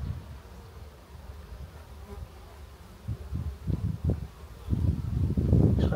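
Honeybees in a natural-build hive box humming steadily up close, a dense low drone that swells louder in the final seconds, with no talking.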